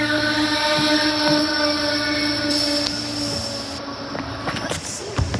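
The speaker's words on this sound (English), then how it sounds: "This is a train to the airport." A railcar train to the airport moves through the station at Elkins with a steady metallic rumble and drawn-out wheel squeal, loud and close, with a few sharp clanks toward the end.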